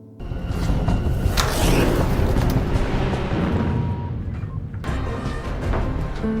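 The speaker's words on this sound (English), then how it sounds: "Hearing the explosion" A loud, deep blast from an explosive device erupts and rumbles on for several seconds, a heavy roaring boom with a second surge near the end.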